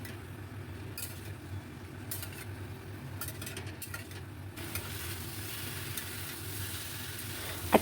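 Fried potatoes and boiled elephant foot yam sauté in a yogurt and spice curry, giving a constant sizzle broken by bursts of a metal spoon scraping and tapping the pan.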